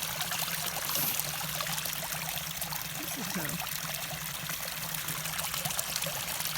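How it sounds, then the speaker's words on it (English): Water trickles and pours steadily from an old stone fountain beside a forest path, a continuous close splashing stream with no talk. "It's an old fountain."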